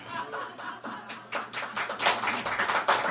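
A live audience at a Korea-focused international forum claps in scattered, uneven bursts across a few seconds, with soft chuckles mixed in, moderately near and without speech over it.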